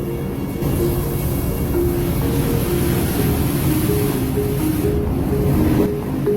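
Heavy, continuous roar of rough sea with crashing surf and wind, loud and unbroken throughout.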